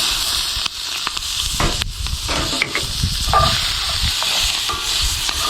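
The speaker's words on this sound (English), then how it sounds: "next thing we're going to add to the skillet is a chopped onion here." Chopped onion sizzles and crackles steadily in a hot skillet, with stirring scrapes and clatter throughout, close and fairly loud with no voices.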